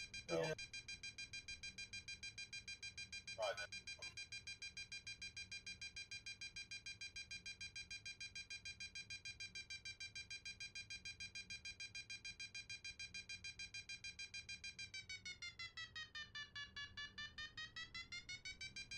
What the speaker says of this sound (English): That beeping's a little bit annoying though, isn't it?